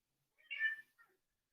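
A cat meows once, a short, clear, fairly close call, followed by a fainter trailing chirp in an otherwise quiet room during a hatha yoga session.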